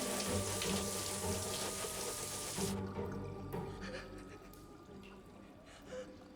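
A tap runs water to wash poison ivy off the skin, a strong steady rushing hiss that cuts off after a few seconds and leaves faint drips and a low trickle.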